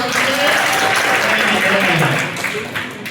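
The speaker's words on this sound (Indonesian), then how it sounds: "Kasih tepuk tangan Mas Mare." A crowd of students claps at a school table-manner event in a Jakarta hotel, a full, continuous wash of hands with voices calling and talking through it before it thins out near the end.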